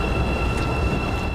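A passenger train from Kyiv pulling into Kramatorsk station, a loud continuous low rumble of railcars with a steady high tonal whine on top, sustained and close throughout.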